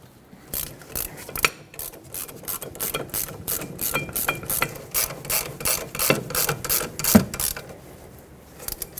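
A ratchet runs down the caliper bracket bolts on a Hyundai Sonata during a parking brake shoe job, a close, steady train of quick pawl clicks in repeated strokes with no talk.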